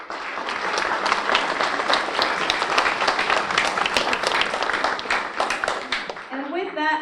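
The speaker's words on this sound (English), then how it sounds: "You all deserve a round of applause." An audience at a student research awards ceremony bursts into sustained clapping, dense and steady for several seconds before fading as a voice begins.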